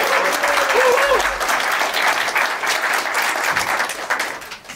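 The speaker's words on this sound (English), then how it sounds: "Big round of applause." Loud, dense applause from a conference audience at a 2014 activist gathering fills the room, sustained clapping close by with a brief voice at the start.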